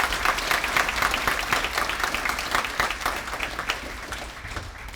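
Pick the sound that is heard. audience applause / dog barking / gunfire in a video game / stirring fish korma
audience applause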